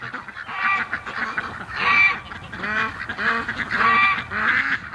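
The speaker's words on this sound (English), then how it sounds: "Ducks are going in." Geese and ducks honk and call repeatedly at close range as the flock heads into its pen at the end of a winter day, a busy overlapping chorus of nasal honks with no talking.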